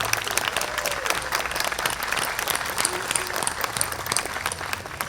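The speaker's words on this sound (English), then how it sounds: "Big round of applause there." A Memorial Day commemoration crowd in Walnut Creek applauds loudly after the band plays. The clapping is dense and continuous, with scattered voices underneath.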